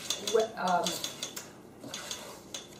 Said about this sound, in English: And now I'm just going to stir it until the flour disappears and no more.